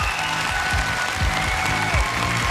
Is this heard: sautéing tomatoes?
no